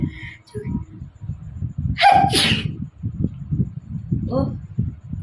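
One loud, sharp sneeze after sniffing black pepper, a sudden burst in the middle of soft voices and low background noise, with people talking before and after.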